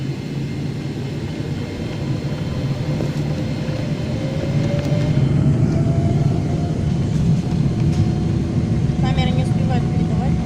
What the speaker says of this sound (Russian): А вот теперь мы взлетаем.